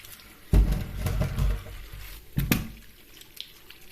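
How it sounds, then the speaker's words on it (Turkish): Apples from a crate are rinsed under a running tap, with two close, loud bursts of splashing water and handling, then a quieter trickle and drips as the flow tapers off. "Ben de bunları güzelce yıkayayım"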